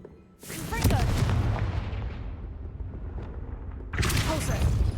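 The Confringo blasting spell cast in a Harry Potter video game, two loud explosive bursts about three and a half seconds apart, each trailing into a crackling rumble, with a voice in the background.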